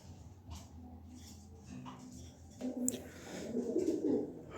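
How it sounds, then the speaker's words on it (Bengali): A pair of fancy Chinese owl pigeons coos softly nearby, with low repeated throaty coos building in the second half over faint background noise. "হ্যাঁ দর্শক, এখানে এক পেয়ার ফেন্সি কবুতর আছে"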